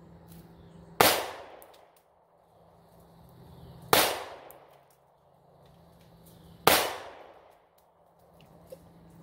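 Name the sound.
Springfield Hellcat pistol firing three rounds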